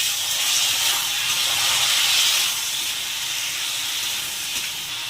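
Fish curry with potato and ridge gourd sizzles loudly as water goes into the hot pan, a broad steady hiss of steam that holds for a few seconds and then eases slightly.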